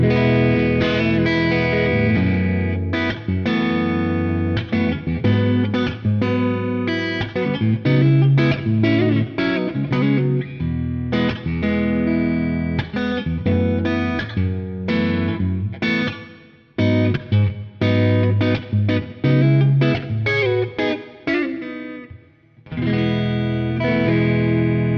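Clean electric guitar played through a Greer Amps Moonshot setup into an amp with Celestion Greenback speakers, a touch of reverb added; steady strummed chords and picked notes run continuously and loud, with brief gaps near the end, no talking.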